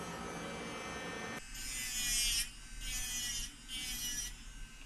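Electric nail file drill running at about 13,000 RPM, working on an index fingernail: a steady high whine that swells in several pulses as the bit meets the nail, close and quiet with no talk.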